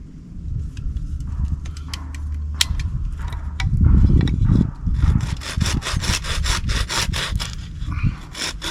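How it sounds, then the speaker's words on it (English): Hand sawing into a piece of wood to cut a notch at a camp, with steady back-and-forth strokes, close and fairly loud, speeding up into quick rhythmic passes toward the end. "So what I'm going to do now is just cut a notch in here."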